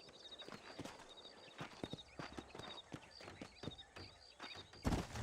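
Horses in the video game Red Dead Redemption clip-clop with quick, irregular hoofbeats at moderate volume, over game ambience and a brief louder rustle near the end.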